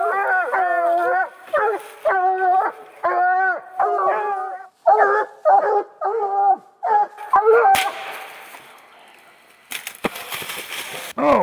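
Several young hunting hounds bay and howl in a long series of near, loud, bawling cries at a treed raccoon at night, followed by rustling and movement noise toward the end.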